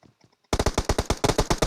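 Rapid automatic gunfire in a PUBG-style scrim match, a sharp burst of about a dozen close, loud shots after brief faint pops.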